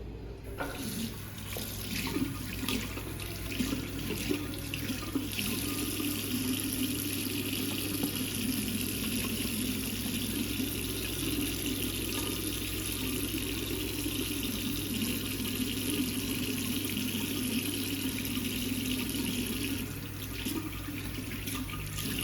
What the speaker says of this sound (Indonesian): alangkah baiknya kita untuk mencuci tangan sesuai dengan nama WHO terlebih dahulu